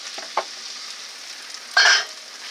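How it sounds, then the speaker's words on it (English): Onions brown in a pan with a faint, soft sizzle, a couple of small clicks early on and one brief louder scrape of stirring near the end. "I'm going to let the onions cook. Going to brown the onions."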